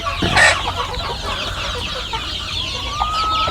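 Free-range Indonesian kampung chickens cluck and murmur steadily nearby, with one louder squawk near the start and a faint crow-like call later.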